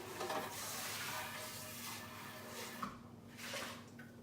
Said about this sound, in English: let me rinse this out real quick